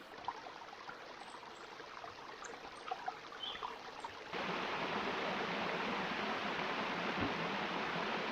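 Steady rushing of a flowing creek in Henley Hollow, Little Dry Run Wilderness, Virginia, broadband and continuous, swelling louder and closer about halfway through with no voices.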